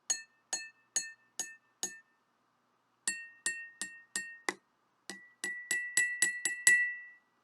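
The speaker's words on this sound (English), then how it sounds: "the glass that hardly has any water hardly makes a tap." Water-filled drinking glasses are tapped like a xylophone, ringing as bright, clear clinks. Five evenly spaced strikes come first, then a short pause, then a longer run of taps that speeds up and grows louder toward the end.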